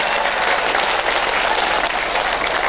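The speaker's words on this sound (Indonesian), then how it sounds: "Tepuk tangan dulu dong buat nelayan" Audience at a mosque religious gathering applauding for fishermen, a dense steady wash of clapping that stays loud and even throughout with no gaps.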